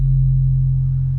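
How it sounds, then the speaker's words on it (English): Deep sustained 808 bass tone from a sample in FL Studio, a loud steady low boom holding for over a second with a slight fade, alone with no other sounds. "808 channel, which sounds like this."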